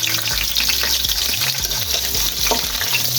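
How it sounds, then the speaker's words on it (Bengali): Garlic cloves dropped into hot oil with chili and cumin sizzle and fry steadily, a close, continuous crackling hiss with occasional stirring. "এখানে আমি কিছু রসুন কোয়া দিয়ে দিলাম তেলের মধ্যে"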